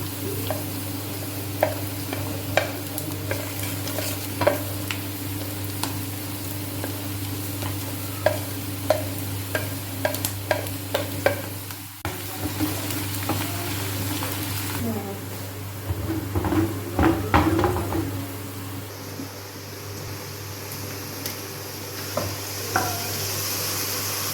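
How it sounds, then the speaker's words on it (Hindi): Steady frying sizzle with repeated scraping and stirring clatter as spices hit fried onions in a pan, continuous and close, with a louder burst of hissing partway through. "प्याज हमारा फ्राई हो चुका है। अब इसमें हम सब चीज़ें ये जो मसाले वगैरह ये डाल देंगे।"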